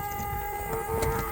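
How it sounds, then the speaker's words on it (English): A steady electronic buzzing tone drones continuously at moderate volume inside a car, with no talking. "original key buzzer still works too"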